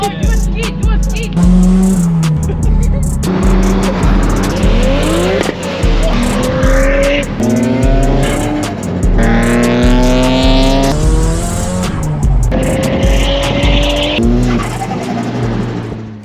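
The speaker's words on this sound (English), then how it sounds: "Oh, do a skid, do a skid." Nissan S15 tires squeal loudly in repeated long skids, engine revving hard between them, close by and continuous for the whole stretch.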